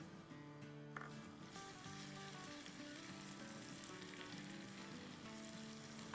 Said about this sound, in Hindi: इसमें 2 टेबलस्पून क्रश किया हुआ लहसुन डाल रहे हैं